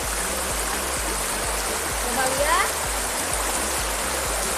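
River running through a village setting, a steady broadband rush of flowing water that fills the whole clip, with a person speaking briefly over it.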